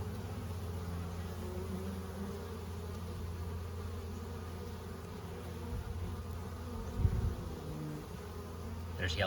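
Bees hum around beehives on an active fall day, a low, steady drone that carries through the whole stretch, with a brief louder bump near the end.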